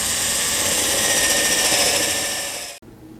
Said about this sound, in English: I think I'll drill a 7/8 hole here, and that'll just let this wire pass through